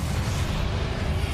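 Bombarda spell blast in a Harry Potter video game, a continuous loud low rumbling explosion filling the whole moment with no voices over it.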